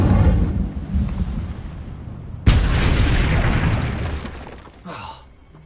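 A sudden crackling burst of magical fire from the Incendio spell in Hogwarts Legacy flares up loudly, then roars and fades over several seconds, following a rumbling lead-in.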